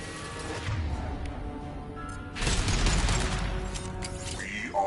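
A loud burst of sci-fi gunfire from Mass Effect 2, a high-impact shot among dense weapon fire and explosive booms, swelling sharply midway and staying heavy to the end.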